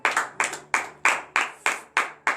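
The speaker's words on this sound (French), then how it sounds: "Donnez de vive acclamation à l'Éternel." A church congregation at a morning prayer service in Benin claps in unison, sharp rhythmic bursts repeating about every third of a second, close and clear with no talk.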